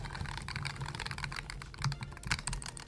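Red switches on a leverless fight-stick controller are tapped in a fast, continuous flurry of clacky, rattly button presses, close and dense with no pauses.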